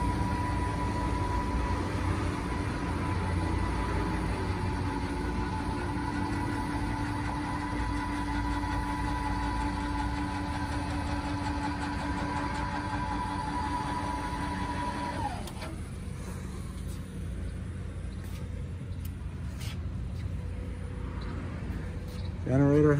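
A 10,000-watt generator on an electric slide in a 2018 Thor Tuscany 40RT motorhome runs with a steady, even drone that shifts to a lower, rougher hum near the end.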